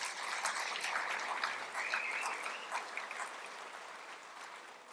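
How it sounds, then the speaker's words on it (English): Audience applause at a sports hall of fame scholarship event, a soft, distant wash of many hands clapping that holds steady, then gradually fades toward the end. "I think that deserves a round of applause."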